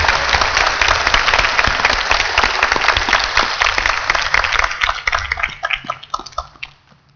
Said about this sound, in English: if you would join me in giving all of our finalists another round of applause